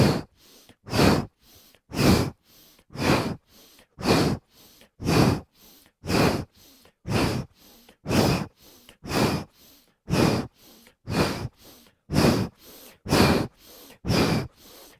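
Deep, forceful breaths move in and out during a kundalini breathing practice. The strong, even rhythm runs about one breath per second and continues steadily throughout, close and loud with no talking.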